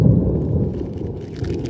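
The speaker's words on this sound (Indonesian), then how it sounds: "Suara petir udah" Thunder rumbling under dark clouds during a fishing trip for tilapia; a short, deep, low rolling rumble, fairly loud and fading slightly, with no talk.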